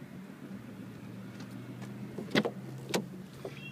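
Power windows on a 2007 Saturn Aura XE whirring in a quiet car cabin, with faint motor hum broken by a few short clicks and thumps near the end.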